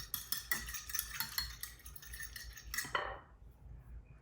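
Utensil scraping and clinking against a bowl while mixing ingredients for crispy chicken tenders, a busy run of small taps and stirring for about three seconds before it stops and goes quiet.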